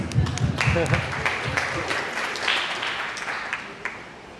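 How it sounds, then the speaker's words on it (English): Scattered clapping from an audience at a motivational speaker event, fairly faint and thinning out, with voices over it. "One applause for you guys."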